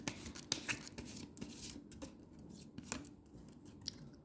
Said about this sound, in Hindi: मैं थोड़ा सा और शफल कर लूँ।